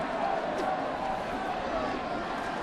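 Anxious baseball crowd at Fenway Park, a steady, dense murmur of thousands of fans filling the ballpark evenly throughout, with no standout cheers or shouts.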